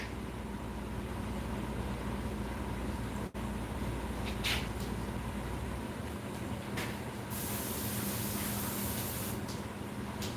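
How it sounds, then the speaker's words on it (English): Airbrush spraying thick contact cement at high pressure, around 80 psi: a steady, close, loud hiss of air running throughout with a brief break and a few sharper bursts. "You have to have about 80 psi or more because contact cement is thick. So we have a high PSI level on your airbrush."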